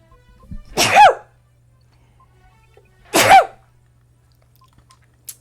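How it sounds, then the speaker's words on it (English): Two sharp, loud sneezes about two seconds apart, each with a quick intake followed by a burst. A faint steady hum runs underneath, and a small click comes at the end. "Sneeze."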